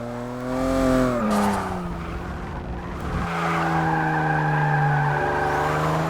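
Saleen S7 race car in Forza Motorsport 6 running near 180 to 200 mph on a back straight, a loud sustained engine whine with rising and falling pitch and tyre skid noise, steady and close with no talk.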